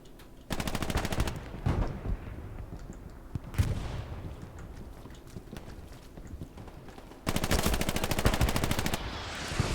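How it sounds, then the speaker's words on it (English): Rapid automatic gunfire trading back and forth in a competitive first-person shooter match, long dense bursts at the start and end with scattered single shots between, loud and close, no talk. "Exchange of bullets there."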